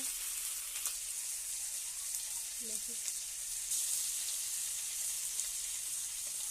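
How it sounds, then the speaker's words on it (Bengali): Chopped mixed vegetables frying in a pan, a steady close hiss and sizzle running throughout with faint scattered crackles and a brief stir. "সবজি কোটা প্রথম ভেজে নেওয়া হচ্ছে"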